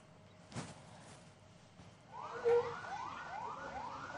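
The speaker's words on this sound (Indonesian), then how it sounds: "suara sirine ambulans terus terdengar dari SMP Negeri 3 Kota Banjar" An ambulance siren starts wailing partway through at a school in Banjar, Indonesia, during a food poisoning incident, a rising and falling electronic tone repeating at moderate distance over background noise.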